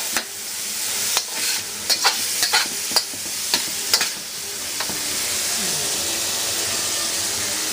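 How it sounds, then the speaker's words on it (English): Fried garlic sautéing in a hot wok gives off a steady, loud sizzle, broken by a series of sharp scraping and tapping hits from the utensil in the first half before the frying hiss carries on alone. "Get this wok a little hotter. Saute them around just a little here."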